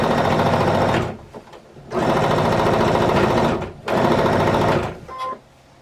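A sewing machine stitches jelly roll quilt strips into one large block, running in three long loud bursts with short pauses between them and a faint tone near the end.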